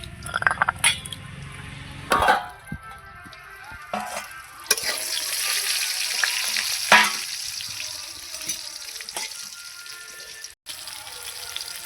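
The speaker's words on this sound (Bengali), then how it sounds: "পটলটা ভাজা হয়ে গেছে এবার তুলে দেবো" Pointed gourd (potol) frying in hot oil in a home kitchen: a steady broadband sizzle with occasional stirring clatter, a louder burst of sizzling as the pieces are moved around, close and heard alone without talk.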